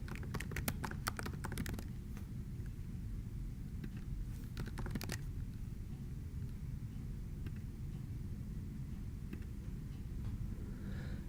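Quick bursts of computer keyboard typing, close and crisp clicks clustered in short runs over a low steady room rumble, then fading to only the hum.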